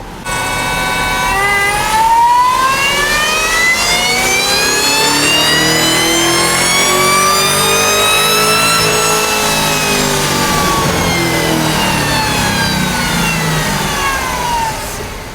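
Supercharged car engine fitted with a carbon fiber supercharger lid revs up and holds high in the engine bay, loud and close, rising pitch sweeping upward then easing back down over about fifteen seconds, with no talk.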